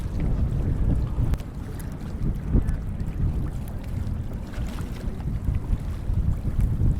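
Wind rushes steadily with heavy low buffeting over the microphone, joined by faint water sounds around a moving sailboat.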